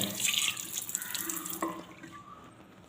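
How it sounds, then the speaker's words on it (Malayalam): Water poured into a bathroom wash basin sink splashes loudly and close for about two seconds, then tapers off to a faint trickle. "കുറച്ച് വെള്ളം ഇതുപോലെ ഒന്ന് ഒഴിച്ചു കൊടുത്താൽ മതി"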